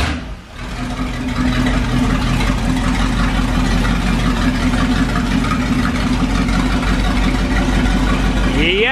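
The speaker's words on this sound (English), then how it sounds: "we're getting ready to throw this 440 big block that we pulled out of a motorhome RV" A 440 big block V8 pulled from a motorhome RV fires up and runs: a loud, steady, close rumbling idle that fills the whole stretch without letting up.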